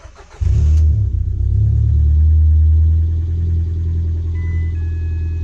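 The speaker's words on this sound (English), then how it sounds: "If I turn it on, it should start perfectly and the oil can then circulate through the engine." Ford Fiesta 98HP engine cranks and catches at once, then settles into a steady, close, loud low idle rumble that eases slightly toward the end, with no talking.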